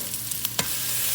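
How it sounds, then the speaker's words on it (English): A spatula scrapes a burger patty across a hot pan while making butter burgers, a few quick scraping clicks over a constant, close sizzle. "just take your spatula, make sure you scrape down to get that nice crispy side"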